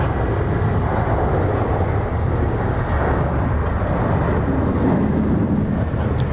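A T'way Air airliner passes at Incheon airport, a steady, loud broadband jet roar that holds throughout without a break, with no voices heard over it.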